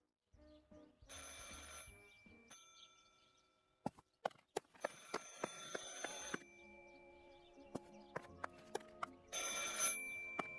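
A telephone bell rings in the horror video game Martha Is Dead, sounding in repeated bursts separated by pauses and mixed with knocks and clatter. It is clear and fairly close, with no voices.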